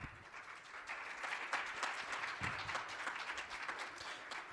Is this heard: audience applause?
yes